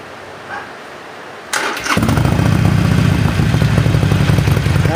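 A Harley Davidson Iron 883 motorcycle engine cranks briefly and fires up about a second and a half in, then settles into a loud, close, rumbling idle.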